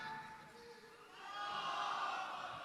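A crowd inside a mosque breaks into a swelling roar of cheering that grows louder and fills the large hall in the later part.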